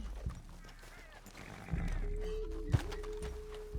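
Horse in Red Dead Redemption 2 at a tribal camp, snorting and shifting near the rider, with a brief whinny-like call and soft hoof sounds over low ambience.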